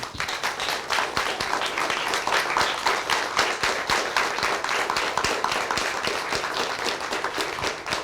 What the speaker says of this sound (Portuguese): acho que as livreiras merecem uma salva de palmas também